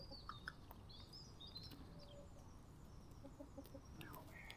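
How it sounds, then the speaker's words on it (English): A chicken clucks softly in the countryside near Dinant, Belgium, with faint, scattered clucks and calls set against steady outdoor wind and background noise. "You found a chicken."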